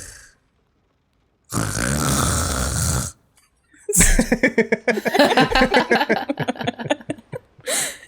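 A voice imitates loud snoring, one long drawn-out snore and then a run of rhythmic snorting, sputtering snores, close up and alone, during a Call of Cthulhu tabletop role-play session.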